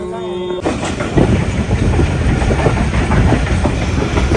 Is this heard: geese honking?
no